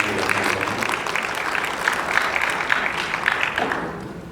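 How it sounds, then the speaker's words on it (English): Sustained audience applause fills a conference hall at a logistics and transport forum, a dense even patter of many hands that carries on for several seconds before fading slightly toward the end. "Please appreciate our round of applause."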